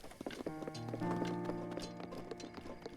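Hoofbeats of a giant horse in Zelda: Breath of the Wild, a steady clip-clop under sustained game music tones, fairly close and moderately loud throughout.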